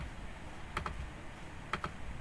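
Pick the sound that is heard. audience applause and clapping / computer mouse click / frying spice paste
computer mouse click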